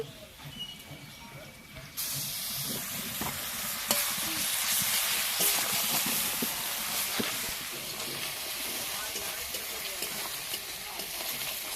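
Onion, ginger and garlic paste fry in a pan with a continuous close sizzle that swells louder partway in, with occasional scrapes of stirring and faint talk in the background.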